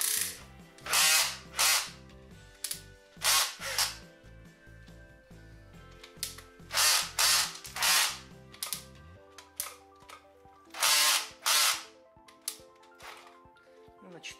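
A Makita cordless drill-driver converted to lithium-ion batteries runs at second speed in repeated short bursts, each a loud close whir starting and stopping, with ratcheting clutch clicks between runs and no voices.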